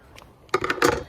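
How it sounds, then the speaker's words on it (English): Pink craft scissors snip through a small strip of yarn beside a creek while fly fishing, producing a few quick, close, crisp snipping clicks that follow a quiet stretch. "You cut yourself a little strip of yarn here."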